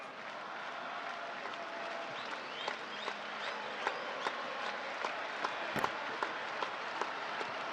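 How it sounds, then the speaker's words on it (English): A rugby stadium crowd at an Argentina versus South Africa match gives off a steady, distant roar with scattered claps and sharp bursts through it, building gently in volume. "the crowd now expectant, coming to life, starting to turn the volume up a bit"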